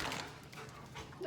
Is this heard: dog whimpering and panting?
yes